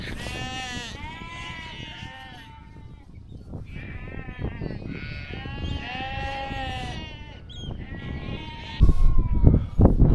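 Sheep in the Scottish countryside bleating repeatedly, several wavering 'meh' calls close by, with rustling and wind noise growing louder toward the end.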